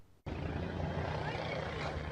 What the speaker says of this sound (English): This video appears to show a helicopter flying over Venezuela's Supreme Court.